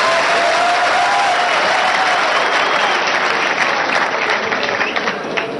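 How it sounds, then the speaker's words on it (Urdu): Loud, dense applause from a studio audience on a Pakistani political talk show, steady and continuous throughout, close and filling the space, with no talk over it. "میرے لیے تالیاں تو بجائیں, میں نے اتنا اچھا سوال کیا."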